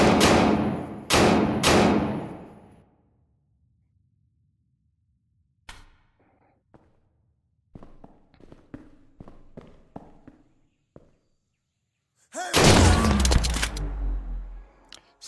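In the VR shooter Tactical Assault, loud gun blasts open, followed by scattered faint thuds and clicks, and then a heavy final burst of fire.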